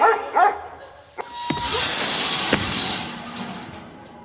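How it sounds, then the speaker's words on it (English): Dog barking in a comic high-school skit, a few sharp yips early on followed by a loud, busy commotion of scuffling noise, with the barks fairly close and unaccompanied by talk. "here comes the dog."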